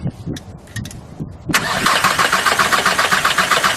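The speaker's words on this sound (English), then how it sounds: "Pick 2 lines, crack them open. He's gonna crank it." A diesel engine with a Bosch VE injection pump and its injector lines cracked open gets cranked. A few seconds of quiet, muffled sound come first, then the engine cranks abruptly and loudly, with a steady churning roar that continues to the end.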